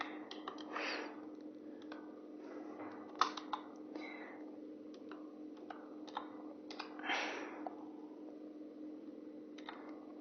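Fingers type on a computer keyboard in quick, faint bursts of light clicks with short pauses between them, over a steady low hum and no talking.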